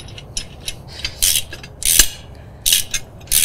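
A hand ratchet tightens a nut with a washer on a John Deere tractor's telescoping 3-point arm, giving close, loud bursts of rapid clicking separated by short pauses.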